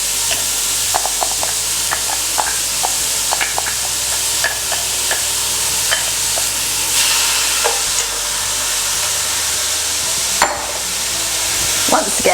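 Diced shallot, onion, celery and pancetta sweating in a Dutch oven, a soft continuous sizzle with scattered light clicks and scrapes of a utensil against the pot.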